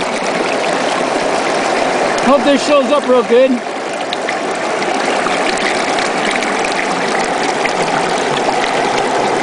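Water runs steadily through a gold sluice box washing gravel, a continuous outdoor stream-like wash, with a person speaking briefly over it.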